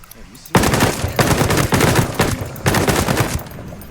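Rapid automatic gunfire in the tactical shooter Ghost Recon Breakpoint, loud, close bursts of machine-gun fire in several runs separated by short gaps.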